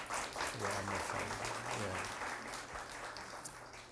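A church audience claps together in a sustained wave of applause that slowly fades, with a voice speaking over it.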